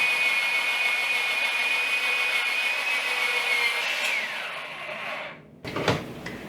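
Carrots shredded in an electric Salad Shooter, a steady high motor whine that runs loud and constant, then winds down and cuts off, followed by a few clattering knocks.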